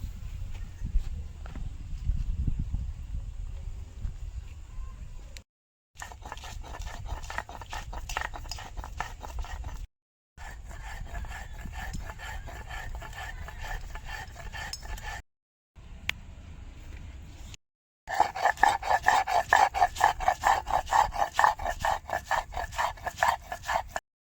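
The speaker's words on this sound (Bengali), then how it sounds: "আদা আর কাঁচা লঙ্কা কুচি দুটো নিয়েছি এখানে এটা আমি একসঙ্গে বেটে নেব" Chopped ginger and green chilli are ground together into a paste, heard as close, rhythmic scraping and grinding strokes in several bursts separated by brief pauses, growing rougher toward the end.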